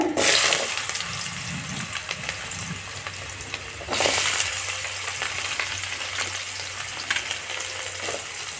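Potato pieces fry in leftover oil from eggplant, with black cumin, a steady close sizzle punctuated by stirring scrapes and brief surges of louder crackling when the pieces are moved.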